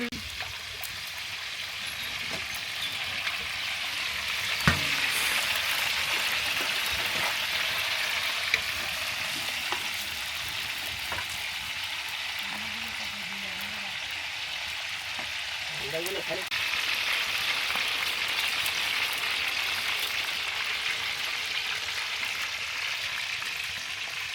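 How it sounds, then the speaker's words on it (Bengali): Steady hiss and crackle of bananas frying in hot oil, continuous throughout, with faint clinks and brief voices in the background. "তারপর তেল দিয়ে ভাজে নেওয়া হচ্ছে"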